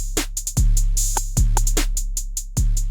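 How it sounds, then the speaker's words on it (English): A halftime drum pattern programmed in Soundtrap, with heavy kicks landing roughly every 0.8 seconds and crisp hi-hats and snare hits ticking between them, loud and alone. "These are halftime drum patterns"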